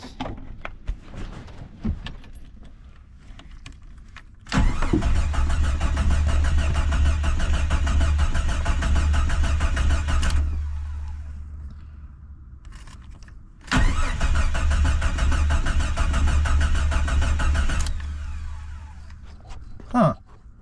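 An abandoned Jeep Cherokee engine cranks without starting in two long, loud bursts of steady rhythmic starter churning, separated by a pause, with faint handling noises before and between.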